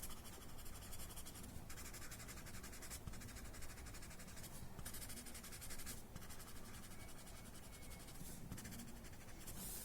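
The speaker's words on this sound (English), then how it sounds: "So you can also add some pencil where there are overlaps." A pencil shades on paper while tangle art is drawn, giving faint, close scratchy strokes in repeated bursts with no talking.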